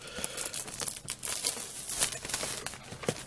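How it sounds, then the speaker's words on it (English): Plastic wrap is peeled off a Doctor Who miniatures expansion box. Continuous close crinkling and tearing crackle with sharp bright snaps all the way through, and no voice. "So peel the plastic off"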